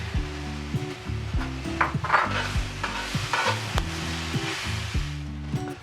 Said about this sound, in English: And I'm going to throw in my tomatoes.